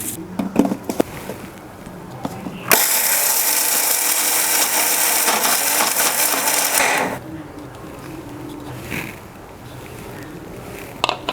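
Roasted peanuts with coriander whir loudly in a mixer grinder, a dense steady roar lasting several seconds between quieter handling clatter before and after.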